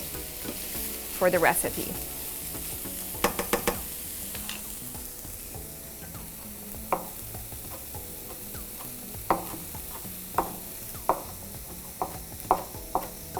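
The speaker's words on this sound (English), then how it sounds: "And then you'll just saute this for another 3 minutes." Vegetables and corn sauté in a hot pan with a continuous close sizzle, broken by scattered clicks and scrapes of a utensil stirring. A short spoken remark comes early.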